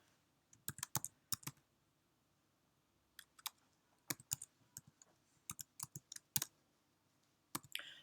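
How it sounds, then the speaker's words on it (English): Fingers typing on a computer keyboard, sparse bursts of crisp key clicks in small clusters separated by quiet gaps, close and fairly soft, with no talking. "the reason why I'm typing it down here instead of on the actual header itself"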